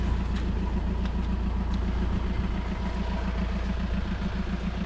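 A car engine idles and runs steadily with a low, even rumble, close and continuous throughout, in a car park beside the sea with no voices.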